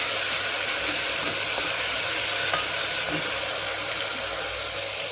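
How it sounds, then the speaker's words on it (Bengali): Panch phoron five-spice tempering sizzles and crackles steadily in hot oil for a Bengali dal, a dense continuous frying hiss with no voices. "5 ফোড়নটা একটু ভাজা হতে থাক।"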